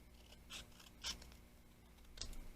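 Faint snipping of sandpaper with scissors to cut a narrow strip for sanding a guitar bridge saddle, three soft, crisp cuts spaced over a quiet background with no talk.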